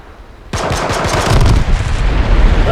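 After a quiet moment, sudden sustained automatic gunfire erupts in the video game H1Z1, loud and rapid, continuing to the end with heavy booming underneath.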